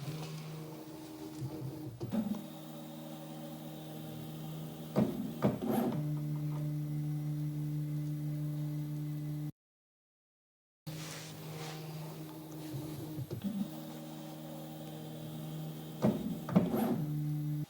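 A Prusa i3 3D printer homing its axes: steady low motor hum with a few short scraping stepper bursts, quiet and close, with a brief dropout partway through.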